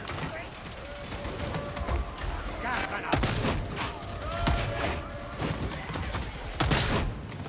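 Dense video game gunfire in a busy firefight, sharp repeated shots over a steady rumble of battle noise while a voice talks throughout.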